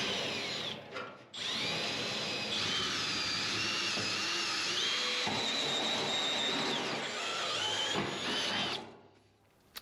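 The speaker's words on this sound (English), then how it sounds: "I like 1/8 inch because it's just large enough that basically every other unibit that follows, you can go through and expand it." Unibit step drill bit enlarging a pilot hole in the unibody of a 1970 Dodge Charger, a loud continuous high-pitched whining grind lasting several seconds between short pauses at the start and a spin-down at the end.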